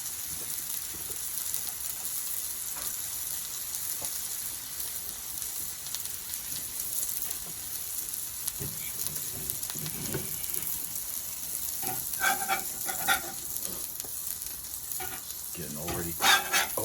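Sliced sourdough bread grilling on a flat-top griddle gives off a steady, soft sizzle and crackle, with a few louder pops and scrapes near the end and no voices.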